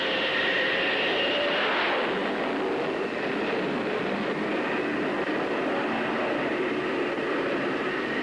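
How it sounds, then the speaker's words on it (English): A loud, roaring jet blast surges and holds steady as a bomber launches by catapult off an aircraft carrier deck, with no talking. "He gives the signal to wind up the engines, then to fire the catapult."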